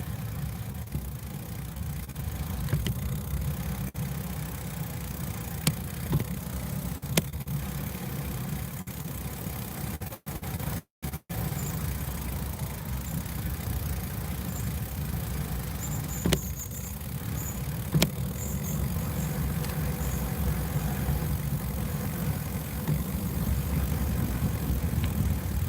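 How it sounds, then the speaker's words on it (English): A motorcycle engine rises out of steady wind noise and sweeps past on a road during a bike ride, its hum holding moderately loud for several seconds before easing away. "I hear a car come."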